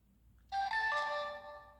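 A DJI Osmo Action camera starting up, giving a short, bright electronic chime of a few rising tones that rings out clearly over quiet background.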